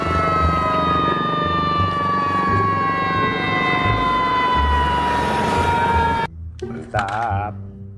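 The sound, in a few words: toy fire engine siren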